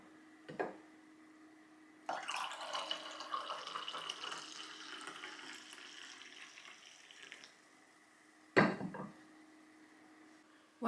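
Liquid pours steadily for several seconds during a craft project indoors, bracketed by soft clunks and a louder knock of a container being set down, over a faint background hum.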